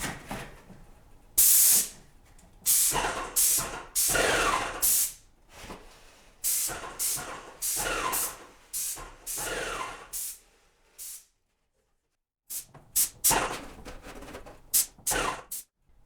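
Repeated bursts of hissing spray paint from a can, some short and some sustained, with brief pauses and a silent gap before a few final quick sprays.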